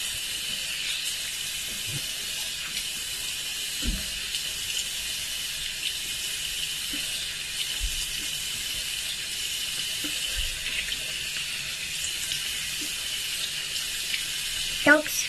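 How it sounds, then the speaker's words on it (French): Lukewarm water running from a tap into a sink while a face is rinsed, a steady soft hiss with occasional faint splashes and clinks, close by, with no talking. "je rince mon visage à l'eau tiède."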